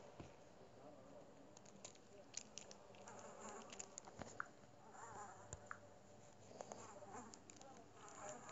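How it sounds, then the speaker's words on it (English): Faint buzzing from flies swarming around a rotting body against a window. The irregular drone is quiet and distant, with small scattered ticks and knocks. "You can see flies buzzing everywhere, letting you know that the body is rotting away."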